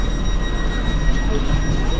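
Steady low rumble of a moving Swiss train heard from inside a fairly quiet carriage, a continuous muted hum with no voices.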